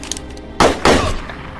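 Two close, heavy gunshots from a gangster film, a short burst followed quickly by a second blast, each with a brief ringing tail.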